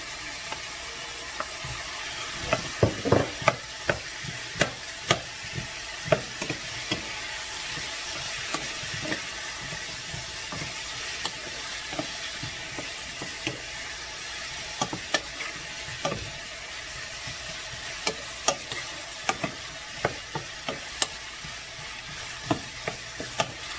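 Fish balls stirred and frying in a pan for sardine tinola with tomato, ginger and garlic, a steady soft sizzle broken by repeated sharp scraping clicks of a utensil throughout.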